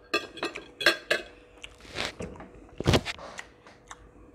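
A canned sardine tin is cut open at close range in a few sharp metallic clicks and scrapes, with a louder crack near the end and short quiet gaps between them.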